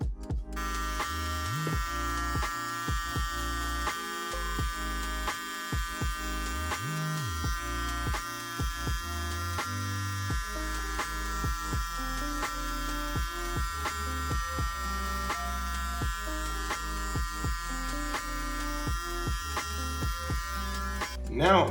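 Electric hair clippers buzz steadily with the lever closed during a home low-fade haircut, a continuous close, loud hum that holds throughout with slight shifts as the blade moves.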